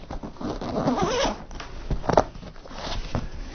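Zipper on a custom drone backpack being opened, a rough ripping slide with a few quick pulls close to the mic in a quiet room.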